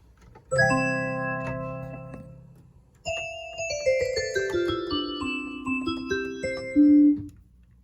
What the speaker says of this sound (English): And we got to have a carillon chime, so this one has got that too.